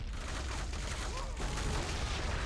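Type 97 150mm heavy mortar firing in the Men of War: Assault Squad 2 video game, amid a dense, continuous roar of battle with overlapping booms and gunfire throughout.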